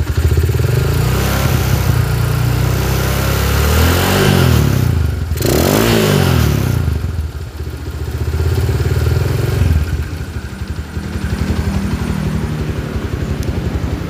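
A Honda GL motorcycle engine with a short-breath fault runs steadily up close, then revs as the throttle is opened a little, rising and falling before settling back to a rough idle.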